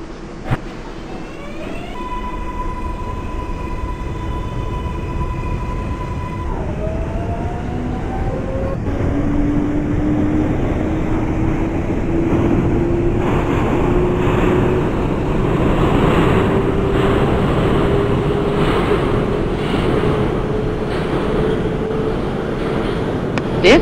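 An R142A subway train on the 6 line in the openBVE simulator runs steadily along the track, with a loud rumble throughout, a rising motor whine, and a brief electronic tone near the start.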